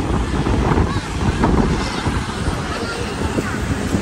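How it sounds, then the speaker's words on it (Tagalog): Strong wind roars steadily across the microphone on Roxas Boulevard by Manila Bay, a loud broadband rush with gusty swells, with faint surf or water movement underneath. "malakas talaga ang hangin"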